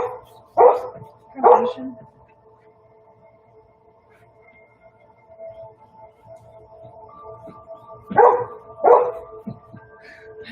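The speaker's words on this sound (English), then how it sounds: "I'm so used to my dog barking that I really don't even notice it" A pet dog barks in a home where someone is painting live, in two pairs of sharp barks with a long gap between them, at moderate distance over a steady background hum.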